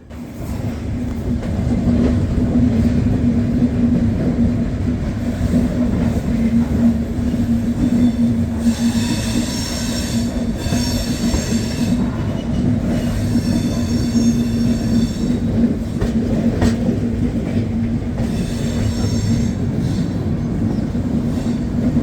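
A train rumbles along steadily with a low hum as it enters Rajkot, wheels rattling on the track, and intermittent high metallic squeals rising and falling throughout.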